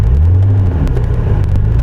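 A 1991 BMW E34 M5 engine through a Billy Boat exhaust gives a deep, close, steady rumble with a low droning tone and light whir above it.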